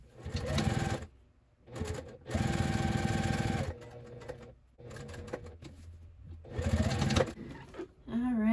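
Sewing machine stitches a box outline for a zipper pocket on a handmade bag, running in several loud, steady motor bursts of a second or so, separated by short pauses and a softer, slower run.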